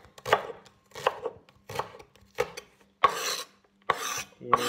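A knife chops shallots on a cutting board for pad thai in close, irregular bursts of crisp strokes separated by short pauses.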